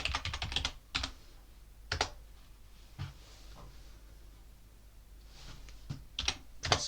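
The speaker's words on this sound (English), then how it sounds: "I'm going to install Chromium, and just type in your password." A password is typed on a computer keyboard, with crisp close key clicks coming in quick bursts separated by pauses, the loudest runs at the start and end.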